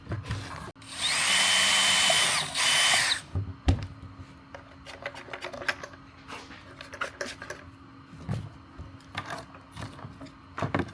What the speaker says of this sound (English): Mark that hole first and then drill a hole in that spot.